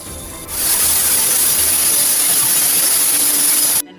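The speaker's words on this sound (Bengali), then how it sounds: "প্রেসার কুকারে উঠিয়ে দিলাম। 3টে সিটি মারার জন্য অপেক্ষা করব।" A pressure cooker full of beef lets off a loud, steady, high-pitched steam hiss that starts suddenly, holds for over three seconds, then stops abruptly.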